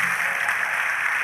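A church congregation at a midweek communion service breaks into dense, continuous applause, a steady wash of many hands clapping that fills the brief moment.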